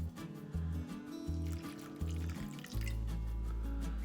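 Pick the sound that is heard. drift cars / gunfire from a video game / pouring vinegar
pouring vinegar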